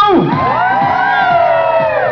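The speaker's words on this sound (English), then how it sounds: "And the crowd give him a woo." A game show studio audience whoops and cheers loudly, with rising and falling 'woo' calls from many voices overlapping in a sustained burst.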